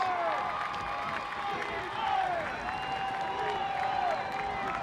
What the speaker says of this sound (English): Cheerleader of the Week, Elizabeth Glasgow, with a round of applause.